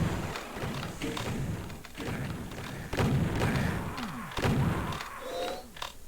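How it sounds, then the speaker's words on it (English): Rapid chaingun fire in a Doom deathmatch, the repeated heavy thuds coming in close bursts amid other game effects, with no voices. "But he is stopped by Dragon with the chain gun"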